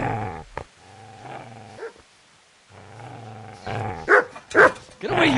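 A dog in the medieval game Kingdom Come: Deliverance growls low and steadily, pauses, growls again, then bursts into several loud, close barks near the end, with no voices over it.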